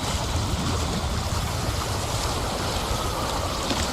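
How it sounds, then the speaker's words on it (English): Large waterfall rushing in the Wuthering Waves video game, a loud, constant broadband roar of falling water filling the whole clip without pause or voices. "That's a really big waterfall."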